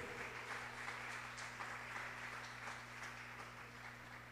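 Church congregation applauding together during a Sunday sermon, a steady wash of clapping held at an even level throughout with a low sustained hum underneath.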